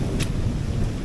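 A steady low rumble of thunder rolls through a village thunderstorm with rain hissing over it, a continuous broad roar without distinct cracks, fairly loud and close.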